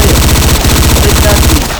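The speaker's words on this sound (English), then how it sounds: "now we're showing them the business end of our rifles" Loud, rapid automatic rifle and RPK-47 machine-gun fire in the Battlefield Yugoslavia video game, an unbroken close-range stream of evenly spaced shots rattling for nearly two seconds before stopping.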